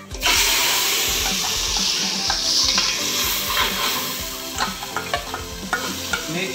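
Chandi paste hits a hot pan where cardamom is already crackling, setting off a loud, steady sizzle with stirring scrapes and small pops throughout.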